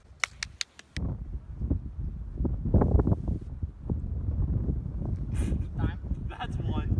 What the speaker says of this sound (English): As you guys can tell, it's just a tad bit windy here today.